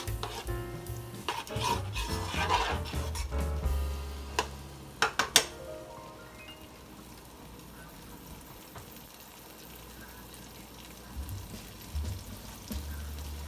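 Carrot and onion mixture with cauliflower rice warming in a pan for keto fried rice, a soft sizzle under scraping spatula strokes and a few sharp clacks early on, then a quieter simmer with one more burst of stirring near the end.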